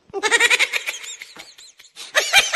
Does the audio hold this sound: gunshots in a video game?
no